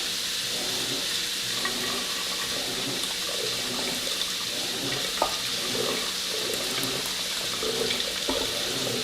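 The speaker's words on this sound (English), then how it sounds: "I'm just going to drain a little bit of this water off, not all of it." Some of the cooking water being drained off a pot of venison barbacoa, heard as a steady, fairly loud splashing flow at close range, with a few faint clinks over it.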